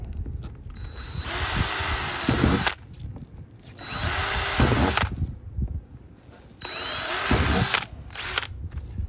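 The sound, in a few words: power drill drilling holes in trash can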